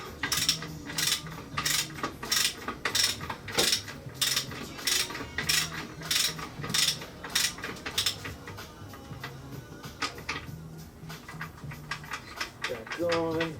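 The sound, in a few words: tightening Toyota Corolla crank pulley nut with ratchet tool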